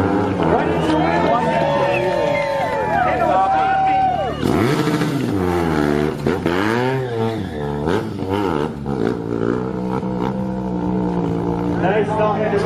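A motorcycle engine revs and whines through a no-handed wheelie at a stunt show, loud and close, its pitch rising and falling in sweeps while an announcer talks over it.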